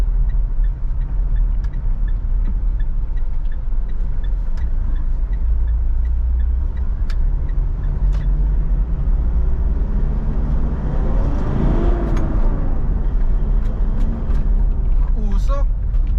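A Mitsubishi Montero GLX with manual transmission pulls onto a highway, steady engine and road rumble filling the cabin while a person talks over it throughout.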